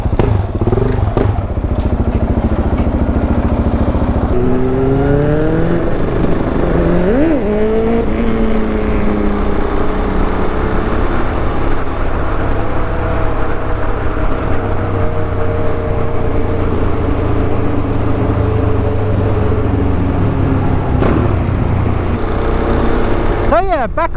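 A KTM 690 Duke R motorcycle out on a group ride, its engine droning continuously and loudly close by, with a few rising revs and gear changes over the steady roar and wind.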